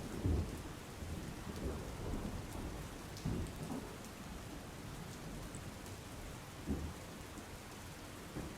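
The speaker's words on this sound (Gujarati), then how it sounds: "આજે સાર્વત્રિક વરસાદ જે રીતે ગુજરાતમાં થઈ રહ્યો છે" Heavy rain pours in Vijapur, Gujarat, a steady hiss of drops on surfaces with several low rumbles of thunder rolling in, fairly faint overall and with no voices.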